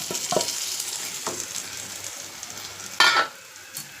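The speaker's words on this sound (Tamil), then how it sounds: "நம்ம சிக்கனை நான் பிச்சு வச்சுருக்கேன். இப்போ அந்த சிக்கனை அதில் போட்டுக்கலாம்." Shredded chicken sizzles steadily in a hot frying pan, for a chicken roll filling, with a few sharp scraping stir strokes and a louder burst of hiss near the end; no voices.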